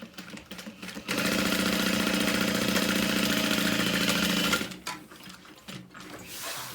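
A sewing machine stitching parallel lines with backstitching on a handbag runs in one continuous, close, steady whir for about three and a half seconds, with quieter handling noises before and after and no voices.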